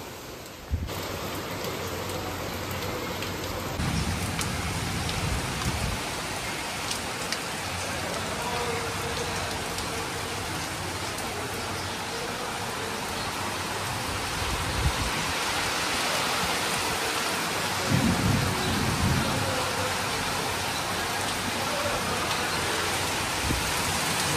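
Heavy rain pours steadily outside a house, a dense, loud hiss that runs unbroken for over twenty seconds, with a few deeper rumbling swells in the mix.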